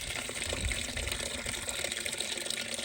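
Hot water gushes steadily into a pan of sautéed, sticking pig stomach stuffing, a continuous close splashing pour that runs the whole time with no speech.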